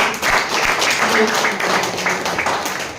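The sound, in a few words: congregation applause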